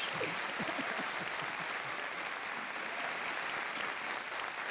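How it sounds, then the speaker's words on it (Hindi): Steady, dense applause from a television quiz show studio audience, continuous and fairly loud throughout with no voices standing out. "ताली इसलिए बज रही"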